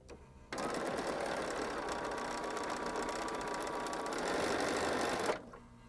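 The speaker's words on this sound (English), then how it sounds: "I'm going to sew my 1/4 inch starting up at the top" A sewing machine runs steadily for about five seconds, stitching quilt block pieces with a quarter-inch seam; an even, close mechanical whir starts abruptly and stops cleanly with no talking.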